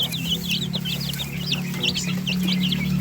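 Sebright chickens cluck softly among newly hatched chicks, with a rapid run of high peeping chirps from the chicks close by over a steady low hum.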